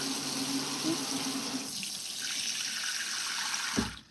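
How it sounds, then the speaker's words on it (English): A kitchen tap runs hot water into a bowl in a steady, close rush, the flow shifting in tone partway through before cutting off near the end. "And we're gonna get some hot water."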